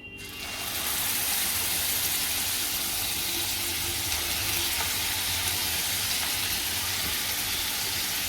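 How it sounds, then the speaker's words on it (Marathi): Masala spices frying in oil for stuffed pomfret give a steady, loud sizzle that holds evenly throughout, with no talking over it. "मसाला तळून घेतल्यावर चांगला खमंगपणा येते त्याला म्हणून तळून घ्यायचा आहे आपला थोडासा तेलावरती टाकायचा आहे मसाला आपल्याला"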